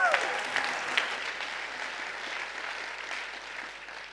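An audience at the FameLab Australia national final applauds steadily, a dense wash of clapping that starts strong and gradually fades, with a voice briefly over it at the start.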